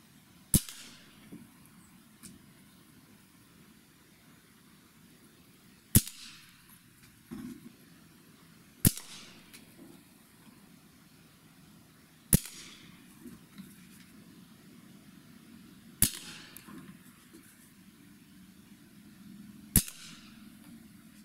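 A Black Bunker BM8 air rifle fires six sharp, quiet shots at a target outdoors, each a crisp crack spaced several seconds apart with light handling noise in between.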